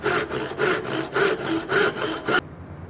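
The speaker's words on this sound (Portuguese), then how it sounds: "estava prensando o serrote, não dava para serrar." A hand saw cuts through wood to form the tines of a wooden fork, rasping in about eight steady back-and-forth strokes up close before it stops abruptly.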